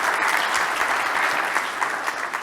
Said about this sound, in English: A round of applause for marketing.